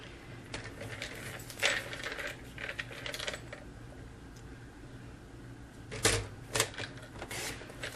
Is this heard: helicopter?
no